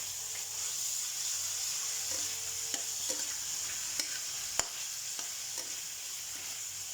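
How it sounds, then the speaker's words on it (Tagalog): Chicken sautés in a pan for a chicken curry, giving a soft, steady sizzle with scattered clicks and light scrapes of stirring, fairly quiet and without talk. "pag ginigisa nyo muna siya bago nyo lagyan ng avocado, at least maluluto yung inyong chicken"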